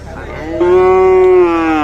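A single cow moos loudly and close at a cattle market. One long, steady, tonal low that rises and then tails off, with faint background noise and no talking.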